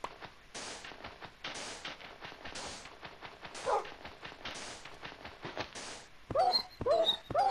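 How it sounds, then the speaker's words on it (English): Minecraft dogs give a run of short yips and barks, one after another at a steady pace, then a few higher whimpering whines near the end. No one talks over them. "There's more dogs."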